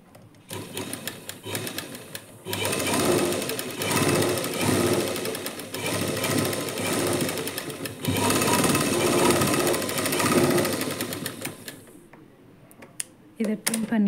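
A sewing machine stitches a seam on a lined blouse in two long steady runs with a brief pause between, its motor whirring close and loud before falling away into faint clicks and handling.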